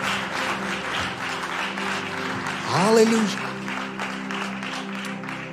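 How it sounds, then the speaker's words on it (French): Church congregation applause rolls on steadily as a voice calls out and a sung or sustained vocal tone rises briefly over the clapping in the middle. "bel applaudissement"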